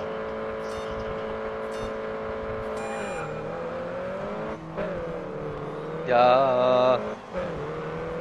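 A Mini Cooper race car engine in the video game Grid Autosport drones steadily, dips, then revs sharply upward in a loud burst before settling; a voice briefly speaks once.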